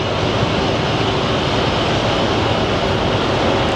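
A jet airplane at Phoenix Sky Harbor Airport roars as a loud, continuous, broadband engine rush. It stays steady and close for the whole stretch, with no talking.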